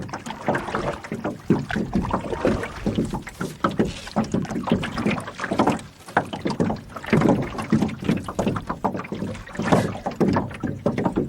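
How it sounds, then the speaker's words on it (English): An empty boat sits on the water and air catches underneath it, making a continuous rough hollow slapping and rushing that rises and dips in bursts for several seconds and carries no talk. "The boat's absolutely empty right now, so you're hearing air getting underneath it a little bit."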